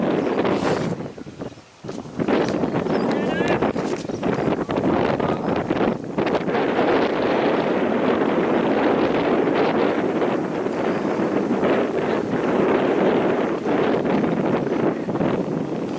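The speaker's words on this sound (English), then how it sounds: "The wind is coming." Wind at an outdoor cricket ground buffets the microphone with loud, continuous rumbling gusts and no break.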